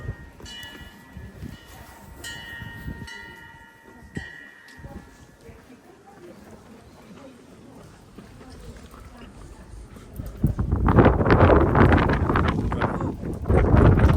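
Strong gusts buffet the microphone with a loud low rumble that surges near the end, while quieter background sounds come and go.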